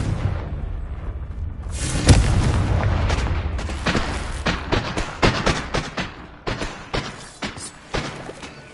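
Confringo explosion spells go off in a Harry Potter video game: a sharp booming blast followed by a rumbling tail, then a rapid series of loud thuds and cracks close by.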